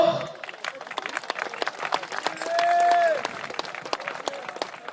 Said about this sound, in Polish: Także myślę, że ogromne brawa dla niego.